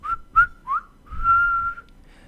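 A voice whistles to imitate hair whistling in the wind: three short rising chirps followed by one long sustained whistled note, clear and close with no talk.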